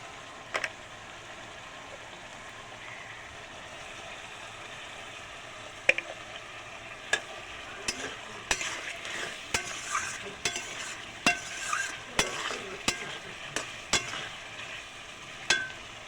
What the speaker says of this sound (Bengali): মশলাটা ভাজা হয়ে গেছে